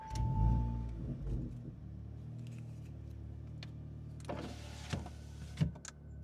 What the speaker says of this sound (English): And go ahead and start the car up.